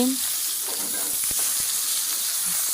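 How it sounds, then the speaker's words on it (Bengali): Pieces of pangasius and tilapia fish fry in hot oil, a loud continuous sizzle and hiss close up with a few scraping stirs. "এখন আমি মাছগুলো ভাজতে আসি"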